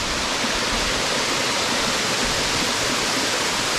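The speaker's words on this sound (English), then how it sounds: "we have another stream of water falling down" Stream of water plunging down a waterfall near Samaipata, Bolivia, a loud, steady, broadband rushing roar heard up close with no talk.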